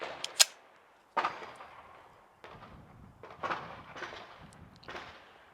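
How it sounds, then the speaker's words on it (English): Simunition marking rounds fire in a series of sharp cracks, roughly five spaced shots with short decaying tails, fairly quiet overall and with no talking. "Next, we're going to shoot the simunition marking rounds."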